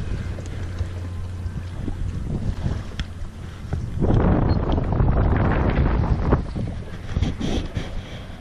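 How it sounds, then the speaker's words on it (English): Strong wind buffets a drifting boat on a rough day at Rend Lake, a continuous roaring rush that swells louder midway, with water sloshing against the hull and no talk. "windy, rough day out here at Rend Lake"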